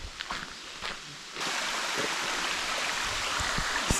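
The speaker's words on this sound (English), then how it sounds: "I think we're almost at the falls. I hear it. I can definitely hear it." Tinker Falls, a waterfall and stream running low on water, gives a steady rushing wash that swells louder partway through, with a few faint footstep-like knocks early on.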